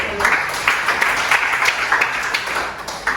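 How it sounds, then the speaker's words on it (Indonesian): A classroom of students claps together in a brief burst of applause, fairly close and moderately loud, with individual claps standing out in an uneven rhythm throughout. "tepuk tangan untuk"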